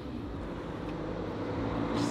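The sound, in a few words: quiet car with a hovering sound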